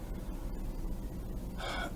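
A single short, breathy yawn from a man during a hot day in London, a sharp intake of air rising near the end of the clip, close and fairly loud, with no talk.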